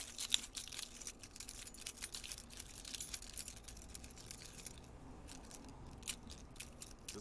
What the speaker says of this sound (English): Another key sample.